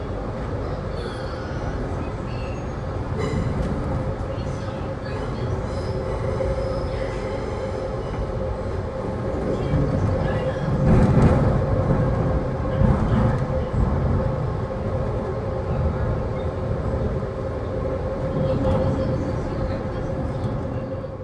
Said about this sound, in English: So it looks like this train will be using the double crossover, which makes sense, as it's just terminated here.